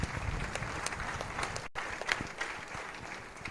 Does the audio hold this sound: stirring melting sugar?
no